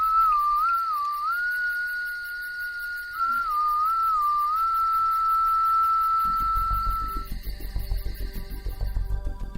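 A single person whistling a long, clear sustained tone with small wavering dips, close and steady for most of the clip, then trailing off as low rumbling noise rises at the end.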